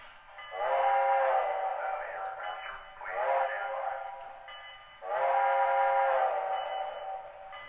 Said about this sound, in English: this thing chugs, has a great sounding bell and a great sounding whistle